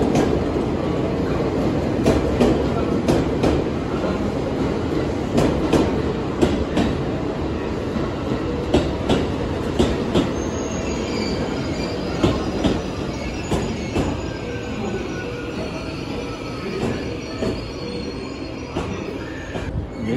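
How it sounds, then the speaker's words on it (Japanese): A JR Nara Line rapid train rolls into a station with a continuous rumble, rhythmic clacking of wheels over rail joints and high squeals of braking wheels. "快速電車やってきますね。"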